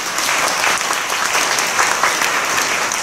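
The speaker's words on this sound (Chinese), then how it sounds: "让我们以热烈掌声谢谢董事长。" Audience applause at a university graduation ceremony, a dense, steady wash of clapping from a large crowd in a hall, loud and continuous throughout without speech.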